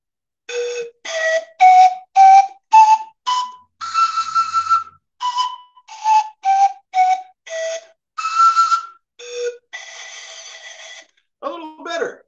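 Homemade drinking-straw wind instrument, its bottom section sealed with foam to set the pitches, blown as a series of short whistling toots at varying pitches, fairly loud and close with brief gaps, ending in a wobbly squeak.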